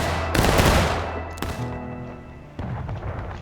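Artillery cannon fire in the Civil War game War of Rights: three heavy booms spaced apart, each sharp blast ringing into a long rumbling decay, loud and close with no talking.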